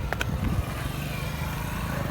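Motorbike engine idling steadily and close by, a continuous low rumble throughout with a few brief higher noises near the start.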